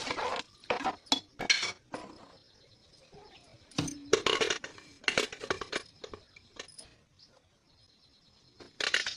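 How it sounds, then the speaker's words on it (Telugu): Lid being put on a cooking pot, a run of close metallic clinks and clatters in short bursts with quiet gaps between them, no talk over it. "అదేనండి మూత పెట్టుకున్నాను మీకు"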